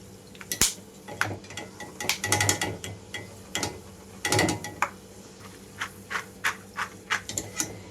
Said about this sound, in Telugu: ముందుగా నేను పల్లీలు వేసి వేయించుకుంటున్నాను లో ఫ్లేమ్లోనే ఉంచి వేయించుకుంటున్నాను